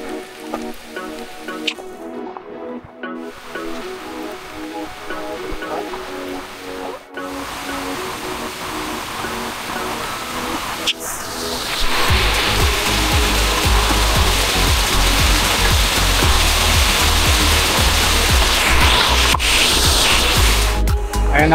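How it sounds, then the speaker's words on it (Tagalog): Hulugan Falls waterfall rushing, a steady broadband roar of falling water that swells to a louder, fuller torrent partway through, heard close and alone without talk. "Hulugan lang pala. Hulugan Falls. Unang sulyap."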